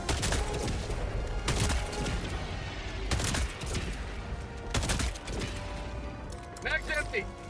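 Video game gunfire rings out in repeated loud bursts and volleys over a dense battle soundscape, with a few sharp crashes, continuing until the magazine runs dry.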